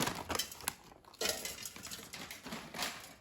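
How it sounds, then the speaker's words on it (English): Frozen broccoli florets tumbling into an air fryer basket, a quick burst of hard clattering and rattling knocks close by, with a short pause and then more scattered taps and rustles. "And I will put frozen broccoli straight in the air fryer basket."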